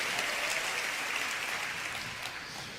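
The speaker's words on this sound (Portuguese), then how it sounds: "dá uma salva de palmas ao Senhor" A congregation applauds during a church sermon, a continuous even rush of clapping from many people that holds steady, then eases slightly toward the end, heard alone without speech.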